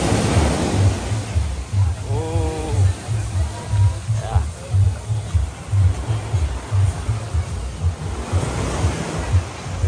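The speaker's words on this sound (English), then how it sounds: "The waves come in really strong." Ocean waves surge and crash onto the beach at El Nido, Palawan, a loud rolling roar with rhythmic low swells, rough wind buffeting and faint distant voices.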